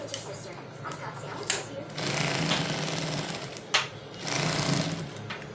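Sewing machine running a ruche line on fabric in two sustained bursts, each starting with a sharp clack, while a voice talks quietly underneath.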